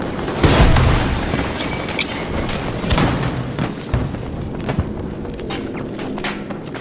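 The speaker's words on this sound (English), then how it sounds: "Outgoing grenade!" Grenade blast in the Battlefield 2042 video game, a loud broadband boom near the start followed by a dense stretch of gunfire, impacts and battlefield clatter.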